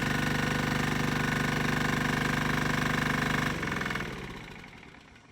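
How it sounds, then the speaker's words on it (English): A P1 pump runs with a steady mechanical hum and rapid pulsing beat while mixing cleaning wastewater with neutralizing chemical, then winds down and fades out near the end. "Then start the P1 pump and run for 10 minutes to mix the cleaning wastewater to neutralizing chemical."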